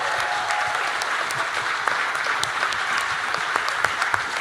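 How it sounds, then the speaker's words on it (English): Steady applause from an audience at a Matariki event honouring MCs and staff, dense continuous clapping with scattered sharper claps, fairly loud and uninterrupted. "I want you to give them a big round of applause."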